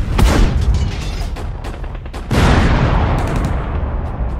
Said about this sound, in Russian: Как только прогремели взрывы